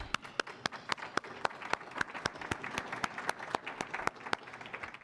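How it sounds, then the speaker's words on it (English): Scattered, fairly quiet clapping from a smallish audience at a campus event, individual sharp hand claps standing out over a softer wash of applause throughout. "we'd like to give everyone a round of applause."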